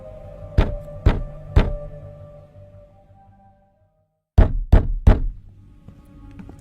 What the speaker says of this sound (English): he first heard the knocking on the door